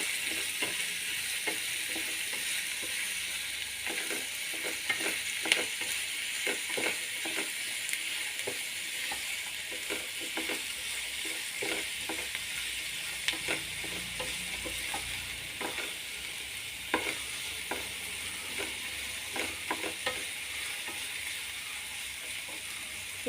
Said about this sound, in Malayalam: നന്നായിട്ട് ഒന്ന് വഴലട്ടെ.